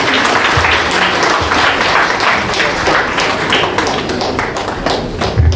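Sustained, dense applause from an audience at a council election community event, loud and continuous with scattered taps and thumps throughout.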